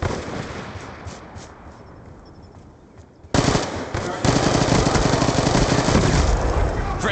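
Black Ops 2 multiplayer gunfire: fast, dense automatic bursts that build to a loud sustained barrage partway through, with game voices in the mix.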